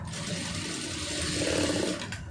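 A sewing machine stitches a light seam on fabric, a close, steady motorized whir that holds for about two seconds with no voices.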